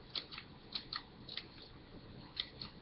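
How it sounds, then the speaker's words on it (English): Scissors make quick, crisp snips into folded paper while feathers are being cut, about eight sharp clicks in an uneven rhythm, close and quiet. "I can take my scissors and do the clips"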